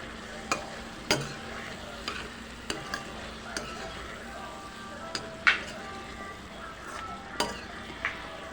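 Chopped tomatoes frying in a pan for a Telugu ridge gourd and chana dal curry, a soft steady sizzle broken by about a dozen sharp spoon scrapes and taps spaced through the stirring.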